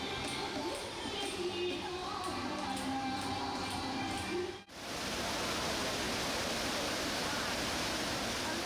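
A steady, full roar of a forest waterfall fills the scene, broad and continuous and echoing, with a brief dip partway through before the rushing sound resumes.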